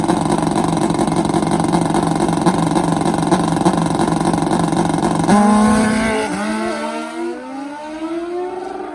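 A 500+ hp nitrous Kawasaki drag racing motorcycle roars loud and steady down the strip during a run, its high engine note holding, then falling off and fading as the bike goes away.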